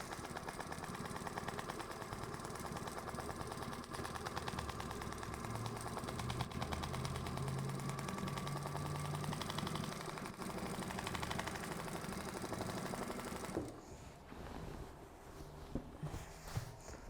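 A sewing machine runs continuously while stitching a quilted table runner in a wandering meander pattern, a faint, steady mechanical whir with a fast needle rhythm that stops near the end, leaving quieter handling noise.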